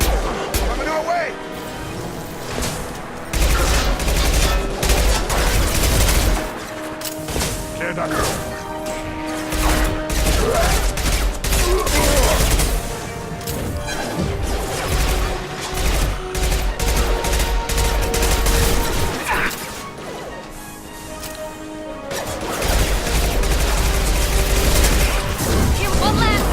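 Sustained gunfire from a Mass Effect 2 battle, with heavy overlapping volleys and automatic bursts that run almost nonstop. The shooting drops off briefly a few times, then resumes at full loudness.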